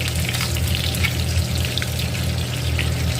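Fish deep frying in hot oil, a dense, steady sizzle and crackle that holds at an even, fairly loud level from start to finish, with no talking.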